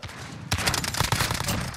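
LWRC SMG-45 submachine gun firing in Call of Duty Modern Warfare: a loud, fairly slow burst of closely spaced shots that starts abruptly after a brief quiet lead-in and keeps going to the end.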